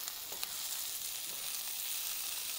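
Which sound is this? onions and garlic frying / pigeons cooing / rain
onions and garlic frying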